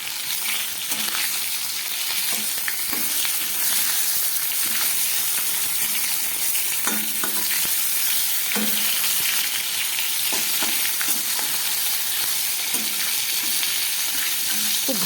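Fish heads fry in oil in a covered pan, giving a loud, steady sizzle with frequent small pops and crackles throughout, and no voices.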